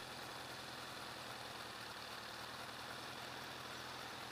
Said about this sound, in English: I hear this car making noise.